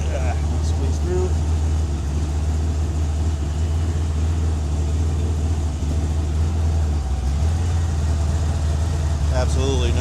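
A Ford 302ci V8 car engine with catalytic converters idles in a garage, a steady low rumble filling the whole clip at close range, with someone talking over it.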